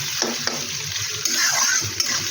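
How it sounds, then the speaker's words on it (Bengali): Onion and potatoes frying in a pan, a close sizzling hiss with light stirring scrapes and small clinks, steady and unbroken over a couple of seconds, no talk. "এবার পেঁয়াজটা একটু ভাজা হলে ওর মধ্যে আলুটা ছেড়ে দেবো।"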